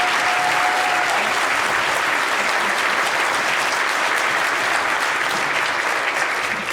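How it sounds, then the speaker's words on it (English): At a high school graduation ceremony, the crowd gives the staff a loud, sustained round of applause, thick even clapping filling the hall from start to finish. "So big round of applause for the staff."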